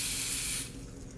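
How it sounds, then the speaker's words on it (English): A shaken can of hair foam that resembles mousse releases a short, close hiss of spray for about half a second, then cuts off, leaving only faint room noise. "So you shake it, and when it comes out, just a little spray."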